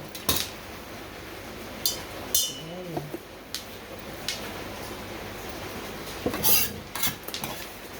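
Filling ingredients for pork dumplings go into a mixing bowl: scattered clinks and knocks of utensils against dishes, with a few sharper clatters and a brief voice in the background.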